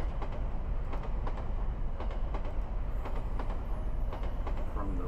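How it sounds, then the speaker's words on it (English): A steady rumble and rhythmic clatter of a train rolling along the rails on a mountain line in a visual novel game, with repeated wheel clicks over a constant low roar. "we board a train on a line that winds its way through the mountains"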